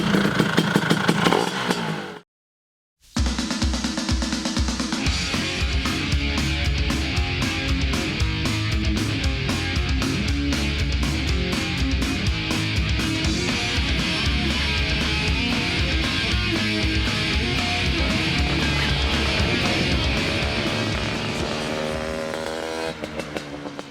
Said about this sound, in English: It sounded really good coming in. A little two-stroke.